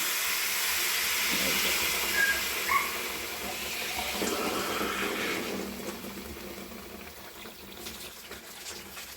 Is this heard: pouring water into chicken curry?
yes